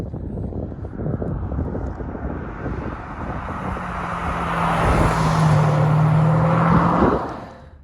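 A black 2016 Audi SQ5 accelerates nearby, its engine note rising into a loud, sustained pull that swells over several seconds and then cuts off abruptly.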